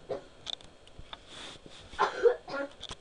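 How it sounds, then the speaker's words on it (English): A few quiet coughs and throat sounds, faint and somewhat distant, scattered over a few seconds with no talking. "If you hear coughing in the background"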